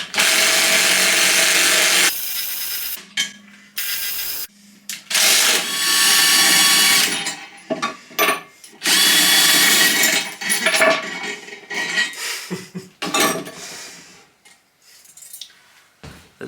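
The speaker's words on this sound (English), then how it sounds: "So much quicker with an impact gun." An impact gun working on Honda and Suzuki dirt bike parts in a workshop, giving loud, broken bursts of whirring and hammering with metallic clatter, starting and stopping many times close up.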